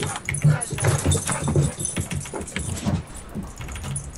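Excited dog barks and whimpers come through repeatedly alongside jangling keys and light clatter, at moderate distance and with little talk over them.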